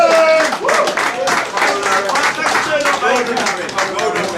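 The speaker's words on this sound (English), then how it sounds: "a great round of applause" A crowd of guests applauds at an awards presentation, steady dense clapping sustained throughout, with voices and cheering mixed in under it.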